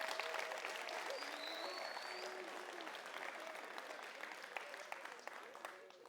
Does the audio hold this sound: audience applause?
yes